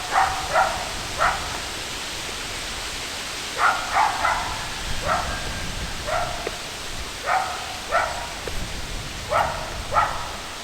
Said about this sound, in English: Sounds like a little yapping dog.